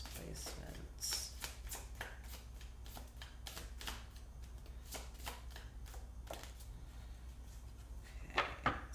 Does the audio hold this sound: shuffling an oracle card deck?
yes